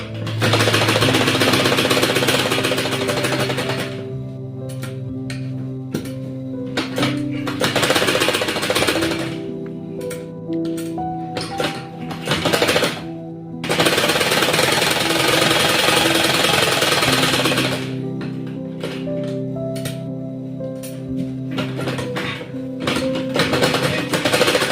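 A sewing machine stitching a designer shirt for an eleven to twelve year old child runs in loud rapid whirring bursts, stopping and starting several times with short pauses between runs.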